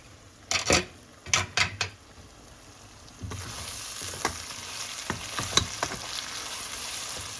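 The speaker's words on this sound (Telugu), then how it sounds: "సో ఆనియన్ కూడా చాలా త్వరగా ఫ్రై అయిపోతుంది" Onion fries with salt and turmeric in a pan, a few clanks of stirring first, then a steady close sizzle with light scraping over it.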